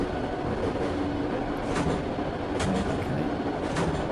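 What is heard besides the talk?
subway train running in a train driving video game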